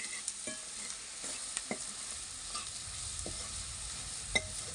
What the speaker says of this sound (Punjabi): ਮਿਰਚ ਪਾ ਲੈਣੇ ਆ ਨੂੰ ਚੰਗੀ ਤਰ੍ਹਾਂ ਮਿਕਸ ਕਰ ਲੈਣੇ